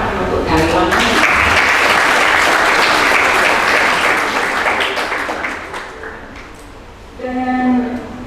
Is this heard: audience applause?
yes